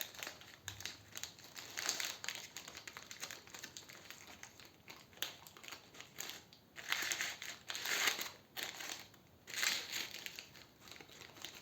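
Close, soft crinkling of aluminium foil being opened up and down for a decorative fireplace build. The rustle is continuous and uneven, swelling in a few louder crackling bursts.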